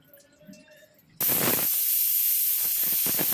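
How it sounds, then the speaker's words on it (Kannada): A pressure cooker holding capsicum pulao lets out a sudden loud, sustained steam whistle that hisses on without a break after a brief stretch of quiet kitchen sound. "ಎರಡು ವಿಷಲ್ ಬಂತು."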